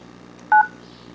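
A single short telephone keypad DTMF tone beeps once on a voicemail menu, clear and close against a quiet hum.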